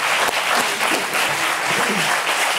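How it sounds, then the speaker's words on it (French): Applause in a French television studio during a talk show, a dense steady patter of clapping that fills the short clip at moderate loudness, sounding more like a crowd than a single person. "il y a un mec qui applaudit."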